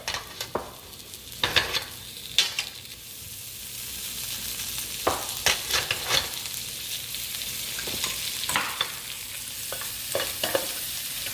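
Scampi butter melts and sizzles in a pan for a seafood scampi dish: a steady soft hiss broken by irregular scraping and clinking strokes of stirring, close and moderately loud, with no talking.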